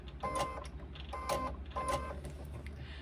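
A sewing machine top stitches a fabric pocket pouch in three short mechanical bursts, each a quick whirring run of stitches separated by brief pauses, close and clear.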